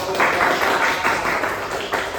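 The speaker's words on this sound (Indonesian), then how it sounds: "Oke, tepuk tangan dong." Students in a classroom clap together, a brief, close, fairly loud wash of steady applause with some voices mixed in.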